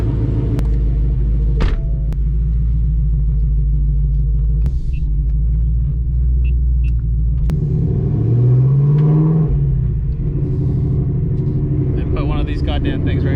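A Whipple supercharged Ford Mustang GT, warmed up after a cold start, pulls away with a deep steady engine rumble and a rising rev partway through, with a voice speaking over it.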